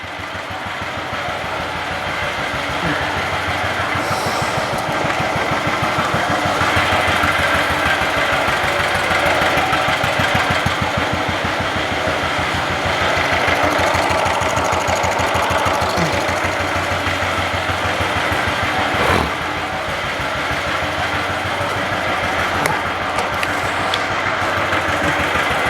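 A small engine runs steadily and loudly throughout, with a fast even mechanical chatter and a brief knock partway through; no talking.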